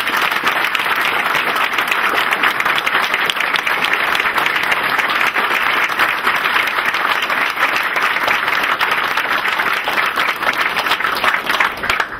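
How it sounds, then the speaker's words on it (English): A large audience gives a long, loud, sustained round of applause for committee members at an OpenCape announcement event, dense clapping that never lets up. "I really want to ask you to give them a big round of applause"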